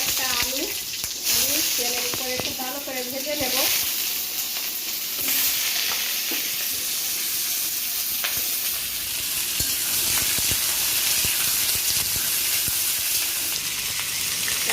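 Sweet pumpkin pieces sizzle and crackle steadily in hot oil, a bright continuous fry heard close up, with a voice speaking briefly at the start and occasional stirring clatter.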